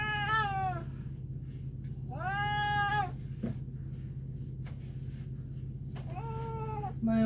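A pet cat meows repeatedly during a non-shaving grooming session, three drawn-out, rising-and-falling cries spaced over several seconds above a steady low electrical hum, close to the listener.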